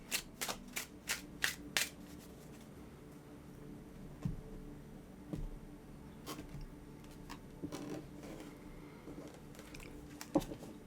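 Soft, quick riffling of tarot cards being shuffled, in a rapid run at the start, then scattered quieter taps and rustles.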